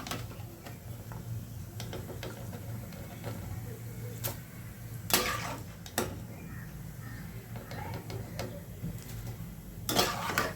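Spatula stirring a crispy corn chivda mixture with roasted coconut in a pan, producing irregular scraping clicks and several sharper metallic scrapes over a low steady hum, fairly quiet and without speech.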